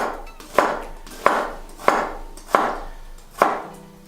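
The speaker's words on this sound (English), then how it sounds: "So, chopping the onion." A small onion being chopped for pico de gallo, six sharp, evenly spaced knife strikes against a cutting board, close and clear with no talking.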